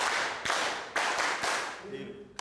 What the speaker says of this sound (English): The clapping seals the deal.